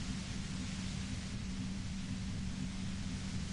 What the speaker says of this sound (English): The violent white noise becomes even more overwhelming closer to the compressor.